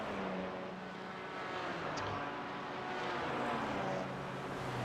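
Race car engines from an iRacing sim race at Bathurst during a six-hour event, a steady loud drone of several cars with rising and falling revs as they jostle and overtake, continuous throughout.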